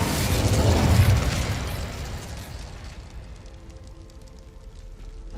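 A fire spell cast in Hogwarts Legacy erupts as a loud whooshing burst of flame that swells for about a second, then slowly crackles and fades into a quieter rumble.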